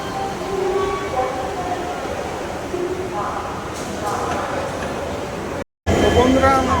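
Steady rumble of a local train hauled by a diesel locomotive at a station near Guwahati, heard close and continuous with faint clatter, a short dropout near the end, and people talking nearby.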